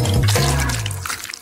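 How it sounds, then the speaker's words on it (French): Liquid gelatin pours into a bowl of hot water and is stirred, giving a brief close splash and gurgle that fades into small drips. "Je vais le verser dans un bol d'eau chaude. Je remue le tout."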